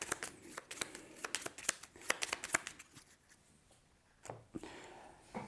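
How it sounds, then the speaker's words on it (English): A deck of board game cards being riffle-shuffled several times, crisp fluttering bursts with short pauses between them, close and fairly quiet. "So I'll shuffle these in."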